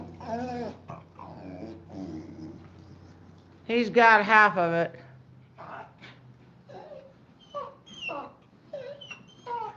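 A small service dog in training whimpers and moans in high, wavering whines, with one louder drawn-out wail mid-way, while a person speaks nearby.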